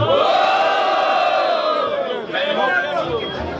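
At a rap battle final, a packed audience roars and yells for MC Choice: a loud, continuous wall of cheering and battle cries that barely dips before rising again.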